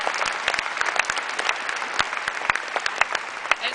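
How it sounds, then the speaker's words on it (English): A steady round of clapping from a conference audience at UC Davis during the 10th annual AMSA conference, with dense, even applause and scattered sharp individual claps throughout. "Let's give him a round of applause."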